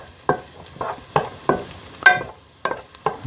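Garlic frying in a pan over medium heat for scaccia, with a soft steady sizzle broken by about eight sharp scraping stirs at a quick, even rhythm, close and clear with no talk.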